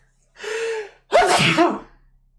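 A single sneeze: a sharp indrawn breath followed by a loud explosive burst, close and alone, then quiet.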